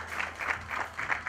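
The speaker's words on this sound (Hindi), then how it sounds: "मान साहब के लिए जोरदार तालियां हो जाए" Applause from the audience at a film trailer launch event, a fairly faint, steady patter of clapping lasting about a second and a half.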